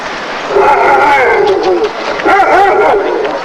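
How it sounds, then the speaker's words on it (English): A police dog barks and whines repeatedly, close and loud, in a rough continuous stretch of agitated yelping during a traffic stop. "I'm going to bring the dog out."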